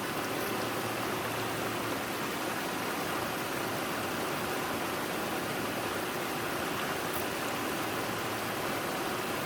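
A waterfall at an outdoor fishing spot roars steadily, a dense continuous rush of falling water, loud and close throughout with no talking.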